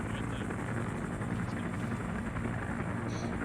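Helicopter engine spooling up in a military flight video game: a steady, dense rotor and turbine roar, constant in level over a few seconds, distant-sounding and moderate, alone without talk.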